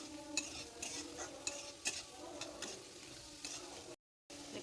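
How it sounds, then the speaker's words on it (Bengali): Chopped onions dry-frying in a pan with a little salt and no oil give off a quiet, crackly sizzle, broken by intermittent scrapes and taps of a stirring utensil. "পেঁয়াজগুলো অল্প ভেজে নেবো"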